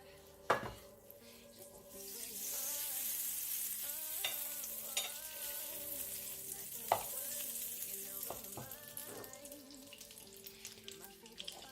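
Butter melting into about three tablespoons of olive oil in a hot pan gives a steady broadband sizzle with occasional clinks and scrapes of a utensil against the pan, close and continuous, with no talking.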